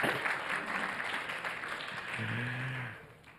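Audience applause at a business competition day in Bangkok fills the room steadily for about three seconds, with a brief low hum or voice sounding underneath near the end.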